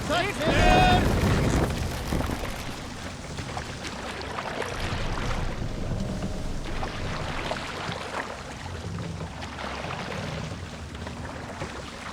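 A sailing boat moving across open water in a Viking-era video game, with a steady rush of water and wind running throughout and a louder burst near the start. Voices speak over it.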